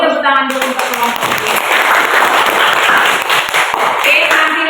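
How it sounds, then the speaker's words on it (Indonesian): Applause from a classroom group of teachers in training, a dense burst of many hands clapping that fills the room continuously after a brief spoken greeting at the start. "Kasih tepuk tangan dulu untuk kelompok."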